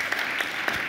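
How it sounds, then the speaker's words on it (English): An audience at a corporate startup conference applauds with dense, steady clapping that fills the short moment evenly. "And giving a big applause"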